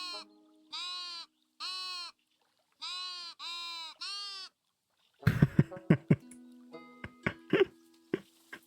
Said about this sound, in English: Oh, I can click on the sheep.